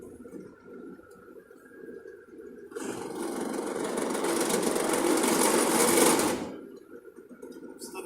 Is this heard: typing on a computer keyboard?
no